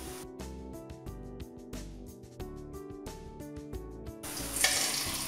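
Phul jhuri pitha batter frying in hot oil from a tin mould, a close bubbling sizzle with rhythmic stirring or dipping strokes that swells into a louder hiss near the end.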